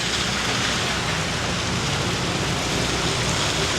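Heavy rain falling during the wet season in Bali makes a steady, dense hiss that fills the whole stretch without a break, loud and close, with no voices.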